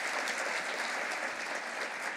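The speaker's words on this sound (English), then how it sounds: "So let's give her a round of applause for her leadership." Sustained audience applause fills the room at a Women Business Leaders Forum awards ceremony, a dense, steady wash of many hands clapping at even loudness with no voices over it.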